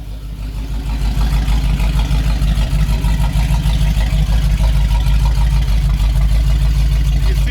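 A 1978 Ford Bronco's engine idles through a custom exhaust, a loud, steady low rumble with a rhythmic throbbing pulse, close up and with no talking.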